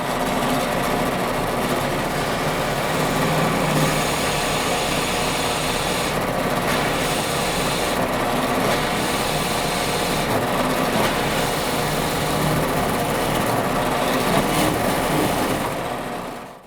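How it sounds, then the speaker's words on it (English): A drill press boring a hole all the way through acrylic for a nightlight, a steady loud continuous motor whine and grinding that holds unbroken for the whole stretch, close by. "now I'm going to drill the other hole all the way through"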